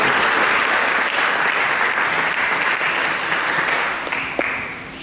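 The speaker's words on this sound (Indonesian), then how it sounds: "Mari kita berikan tepuk tangan yang mulia bagi Yesus." A church congregation gives loud, sustained applause during a sermon, with dense clapping that fades slightly toward the end.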